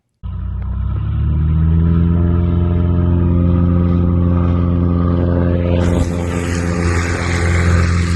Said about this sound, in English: another Cessna 180 similar with the same engine trying to make a takeoff